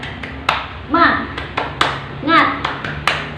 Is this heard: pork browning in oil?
no